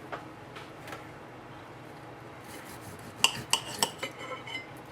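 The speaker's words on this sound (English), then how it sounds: "Let's go ahead and cut it open and just see how the inside looks." A knife and fork scrape and clink on a plate while cutting into a pan-seared steak, with faint scraping early on and then a burst of sharp metallic clicks near the end.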